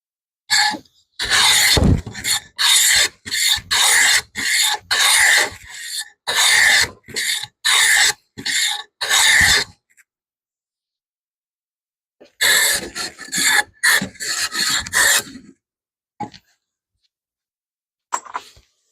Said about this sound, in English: I really love this little block plane.